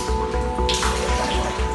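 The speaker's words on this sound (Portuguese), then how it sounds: "A água da piscina coberta se movimenta com força. Em vários momentos chega a transbordar." Water in an indoor swimming pool of a high-rise in Balneário Camboriú sloshes and spills over the edge as the building sways in strong wind, a constant loud splashing wash with a steady low pulsing beneath.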